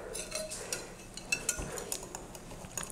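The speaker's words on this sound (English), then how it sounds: "So I'm just gonna whisk it" A whisk beats crustless pumpkin pie filling with coconut sugar in a bowl, giving quick irregular clinks and scrapes against the bowl, close and fairly soft with no talking.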